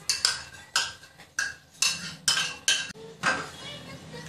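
Chopped capsicum, beans and other vegetables being mixed with salt in a bowl, a run of about eight rhythmic scraping strokes of a spoon against the dish, close and fairly loud, with no talking.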